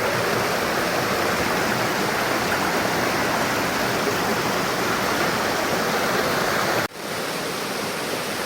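Thottipparai waterfall at Odugathur, Tamil Nadu, roars as a dense, steady rush of falling water close by, with no voices, and the torrent continues unbroken throughout.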